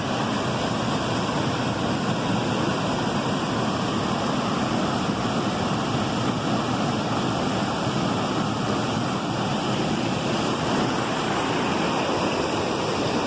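The waterfall at Presidente Figueiredo in Amazonas roars as a steady, loud, unbroken wash of falling water with no voices.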